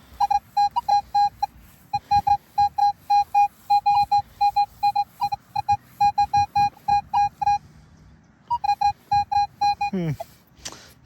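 A metal detector sounds a string of rapid, clear electronic beeps in short repeated bursts over a possible coin on a medieval market field, with a brief pause and a quick rising sweep near the end.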